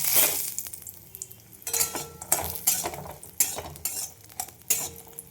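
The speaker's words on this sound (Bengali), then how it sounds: "তেল দিয়ে দিয়েছি কড়াইয়ে, একটু বড়ি" Bori (dried lentil dumplings) fry in oil in a wok while being stirred, with bursts of sizzling and repeated scraping, clinking strokes of a spatula against the metal pan, close and rhythmic, no voices.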